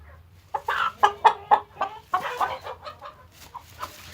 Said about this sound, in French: j'ai l'impression qu'elle fait le bruit d'une poule